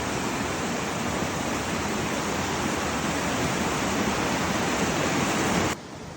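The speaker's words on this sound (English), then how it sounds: "There's the falls in the distance. As you can see, it's raging this time of year." Onyx Falls in Magna Bay, a raging waterfall in full spring flow, a dense steady roar of rushing water that holds loud and unbroken before dropping away abruptly at the end.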